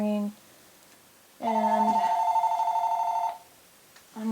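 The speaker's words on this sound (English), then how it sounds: "my phone is ringing" A mobile phone rings with a bright, repeating electronic melody, loud and close, lasting about two seconds. Brief speech comes before and after the ring.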